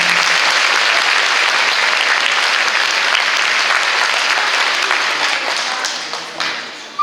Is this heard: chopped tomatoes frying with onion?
no